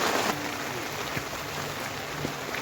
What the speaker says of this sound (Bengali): ভালোই করে বৃষ্টি হচ্ছে